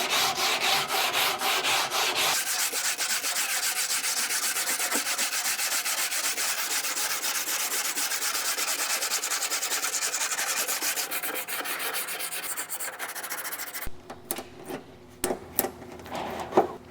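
Hand sanding of body filler on a mini truck's custom body lines with a 120-grit block, a steady close scratchy rubbing that continues for most of the clip, then breaks into short separate strokes near the end.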